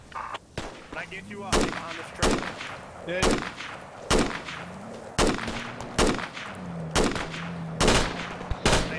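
Sharp, loud gunshots crack in a military simulation operation, about a dozen shots fired in an irregular steady rhythm close by, with faint voices in between.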